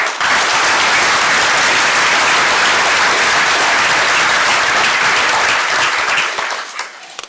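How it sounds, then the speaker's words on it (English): A large crowd at a volunteer recognition ceremony applauds loudly and steadily for several seconds before the clapping thins out and fades at the end. "How about a round of applause for them?"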